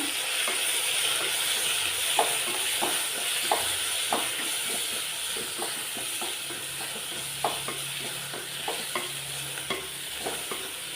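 Brinjal curry in a North Karnataka style is stirred and fried in a pan on medium flame, with a steady hiss of sizzling oil and irregular scraping strokes of a spoon spread through the clip, no voices.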